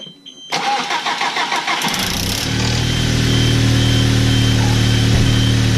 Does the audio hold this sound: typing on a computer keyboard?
no